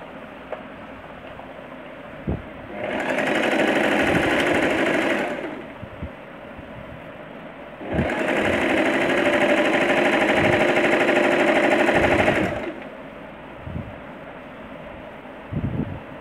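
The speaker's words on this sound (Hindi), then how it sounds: "तो सबसे पहले हम ये साइड स्टिच करेंगे दोनों साइड की" An electric sewing machine stitches the side seams of a handkerchief-style skirt in two long, steady runs of fast whirring, loud and close, separated by a quiet pause with light handling noises.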